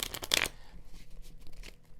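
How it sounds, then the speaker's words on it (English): Tarot cards shuffled by hand, a quick riffling burst at the start that fades into quieter rustling handling noise. "Okay, it's telling me to shuffle this."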